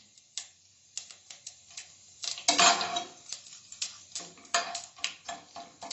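Mustard seeds being stirred in a hot cooking pan with whole cumin for curd rice, a spoon scraping and clinking against the metal in irregular soft taps and a brief louder sizzling scrape, faint and close.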